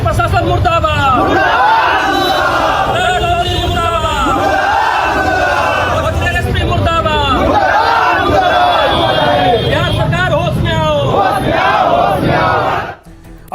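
Street protesters in Arrah rallying for Bharat Tiwari after his encounter killing shout slogans in unison: a dense, loud crowd chanting continuously with rhythmic rises and falls, voices overlapping before cutting off abruptly at the end.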